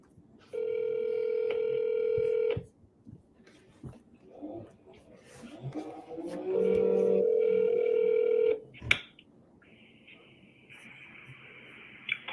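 An outgoing phone call rings out twice in long tones, fairly loud, with quiet pauses and faint background talk between the rings, followed by a voicemail greeting tone.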